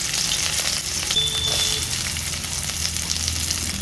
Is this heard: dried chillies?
yes